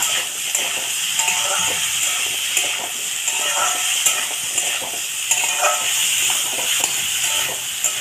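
Turmeric and salt lightly frying in a pan while being stirred, a soft steady sizzle with scraping stir strokes at intervals, no voices.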